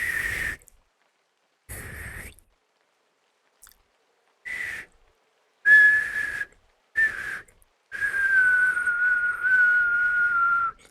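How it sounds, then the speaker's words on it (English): A human whistling in the visual novel game Cabernet, heard as short clear tones separated by silence, then a longer sustained note that sags slowly in pitch, fairly loud and close. "Yes, I can whistle. It just takes a minute."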